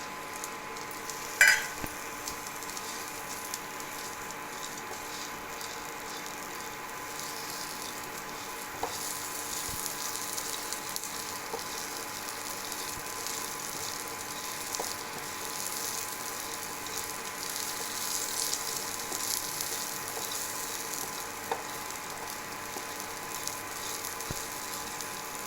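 Shallots, black pepper and cumin fry in a little oil in a pan, a steady soft sizzle that stays fairly quiet and even throughout, with an occasional faint clink near the start.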